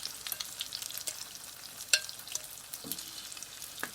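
Vegetables and Spam fry in a pan with a soft, steady sizzle, broken by occasional light scrapes and clicks from stirring, quiet and close.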